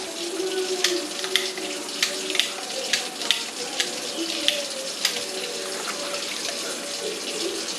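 Steady rushing tap water pours over black powder revolver parts being rinsed in a sink, a continuous close splashing wash with small irregular clinks and splatters throughout.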